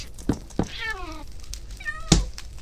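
Cats meow indoors, two or three short rising and falling cries close by, broken up by sharp knocks and thumps, with no talking over them.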